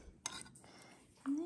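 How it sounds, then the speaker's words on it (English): Cutlery clinks against dishes while dinner is plated: a few quiet, sharp metallic taps and scrapes at close range, with a faint voice murmuring in the background. "Cutlery."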